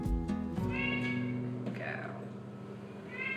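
A recovering pet cat, treated with ear surgery, meows a few times in short rising calls, close and clear against a steady background hum.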